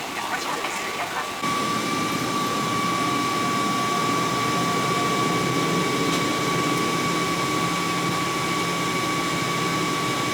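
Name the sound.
Cathay Pacific airliner jet engines while taxiing to runway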